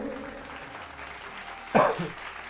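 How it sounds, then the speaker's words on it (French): A single sharp cough bursts out mid-clip, brief and close, against quiet room tone with faint murmuring before it. "Je tousse."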